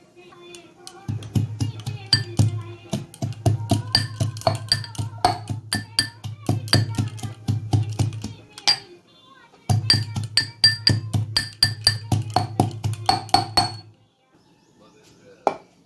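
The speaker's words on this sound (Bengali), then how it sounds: "তো এবার আমি আদা আর রসুন এই দুটোকে থেতো করে নেব।" Ginger and garlic crushed by pounding in a kitchen for a handi mutton curry, a steady run of sharp, hard knocks in quick succession, pausing briefly midway before resuming, then stopping.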